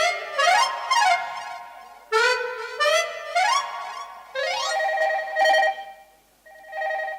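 A phone rings loudly and nearby with a melodic ringtone, bursts of rising and falling electronic tones repeating for several seconds with short gaps and no voices.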